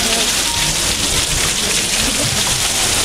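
Spray from the Staubbach waterfall at Lauterbrunnen, Switzerland, falling in a dense, loud, continuous hiss like heavy rain, unbroken throughout with no voices.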